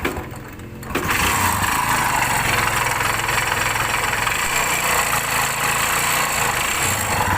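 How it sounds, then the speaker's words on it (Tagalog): A Kawasaki Barako motorcycle engine in need of an overhaul starts up and runs loudly at close range, a rough, steady idle with a rattling, knocking edge throughout. "Ayan, kaingay yung makina niya."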